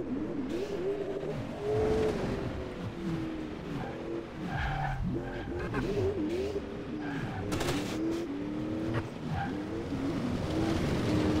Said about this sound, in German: So, einfach Vollgas geben, dann kann der nicht wegfahren.